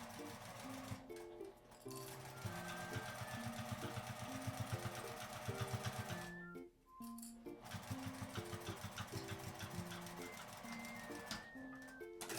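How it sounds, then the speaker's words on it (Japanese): A sewing machine runs a 1 cm seam on fabric for a small trifold wallet, with several close bursts of quick, even stitching separated by short pauses. "下を1センチの縫い代で縫います"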